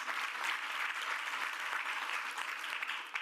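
A room of guests at a DeKalb County summer youth internship celebration gives the county tax commissioner a full round of applause, a thick, sustained clapping that runs unbroken and fairly loud from start to finish.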